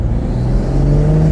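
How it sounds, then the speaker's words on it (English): A BMW M240i with a B58 engine, carbon induction kit and blow-off valve drones and revs steadily, a rising mechanical whir close by with no voices. "It's a nice blow-off valve noise."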